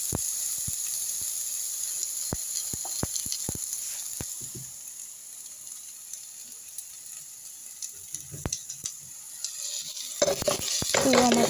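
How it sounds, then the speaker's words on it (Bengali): Tomatoes frying in a pan over onion and garlic, a soft sizzle marked by scattered sharp utensil clicks, then brisk louder stirring near the end. "তো টমেটো ভালো করে ভেজে নিব"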